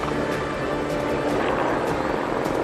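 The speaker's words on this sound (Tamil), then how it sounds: "சிறு விமானங்கள், ஹெலிகாப்டர்கள் மூலம் தீயை கட்டுப்படுத்த முயற்சி." A helicopter fighting a wildfire in New Zealand, its steady, loud rotor and engine roar filling the whole stretch with no pause, with no talk.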